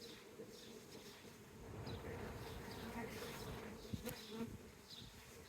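A rescued honey bee swarm buzzes in a dense, continuous drone at close range, with individual bees whining past now and then and a sharp click partway through; no voices are heard over the hum.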